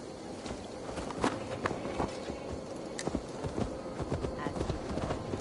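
A horse's hooves clip-clop steadily at a walking pace through a Gloucestershire forest in Assassin's Creed Valhalla, each step sharp and distinct over faint outdoor ambience.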